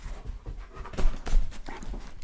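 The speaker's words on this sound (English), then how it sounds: "A puppy just made a little appearance." A puppy pants near the microphone in quick, uneven breaths, with a couple of louder bursts and some small snuffles.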